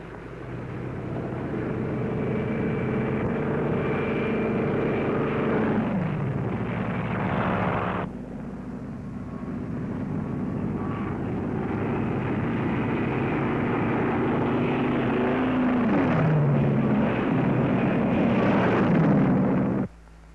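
Drone aircraft launched from an aircraft carrier fly past in a continuous, broad engine roar with wind-like rushing, steady for several seconds, briefly dropping and then swelling again before cutting off abruptly.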